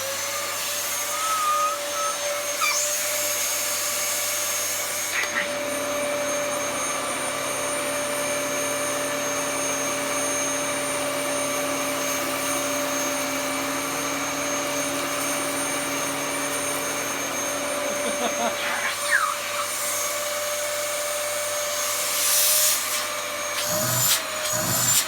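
A Dyson DC14 vacuum cleaner runs steadily over carpet with a loud, continuous whine and roar, its pitch dropping slightly for a stretch mid-pass before rising again, with no talking.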